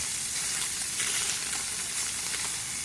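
Barracuda fillet from the Mediterranean sizzles in a frying pan, a steady bright crackling hiss with small bursts of spitting oil, close and fairly quiet, no voices.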